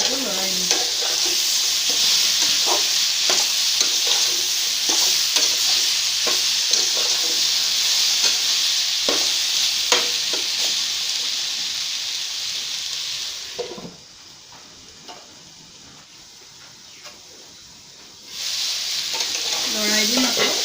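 Tomatoes fry in a pan for a jackfruit curry while being stirred, with a loud steady sizzle and repeated spatula scrapes that dip quieter for a few seconds before the hiss returns.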